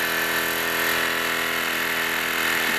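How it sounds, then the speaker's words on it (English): A Wilesco D-18 toy steam engine running at speed, a steady close mechanical whir and rapid chuffing with constant hiss, no voices. "Okay, so that's a steam engine."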